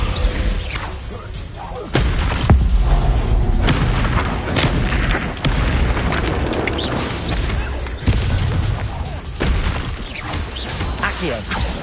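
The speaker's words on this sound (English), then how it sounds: "Descendo!" Descendo spell from the Hogwarts Legacy video game slamming an enemy down, heavy booming impacts with rumbling combat effects, loud and continuous amid other spell blasts.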